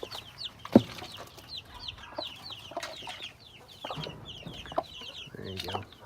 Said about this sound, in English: the other chickens are getting in here and knocking them over